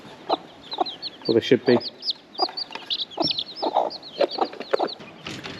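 A feisty hen clucks repeatedly beside her eight little chicks, whose high peeping chirps run almost continuously through the scene, with brief talk from a person nearby.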